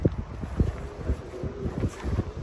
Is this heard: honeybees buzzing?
no